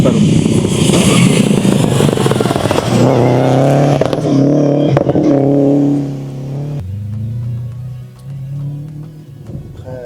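Subaru race car at the Chamblon slalom, its engine loud and close as it revs and accelerates past, then the note drops and fades as it pulls away.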